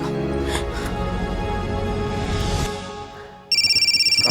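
Over a background of music and voices from a Hindi television drama, a phone suddenly starts ringing near the end with a bright, rapidly pulsing electronic ring tone.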